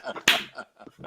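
A single sharp hand clap lands amid ongoing conversation on a film discussion show, close and loud, quickly fading back under the talking voices.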